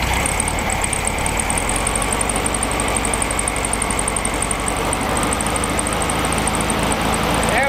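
Classic VW Beetle air-cooled engine idling after being flooded with fuel, a steady, close, continuous rumble with an even pulsing rhythm and no talk.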